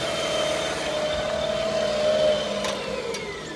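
A steady electric motor whine from an electric-converted 1940s Allis Chalmers G tractor, spinning continuously, close and fairly loud, its tone holding level with a slight shift near the end.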